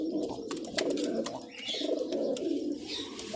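Shahjahani pigeon breeder pair cooing close by, soft repeated throaty coos over steady low-pitched murmuring with a few faint higher chirps, continuous through the short stretch.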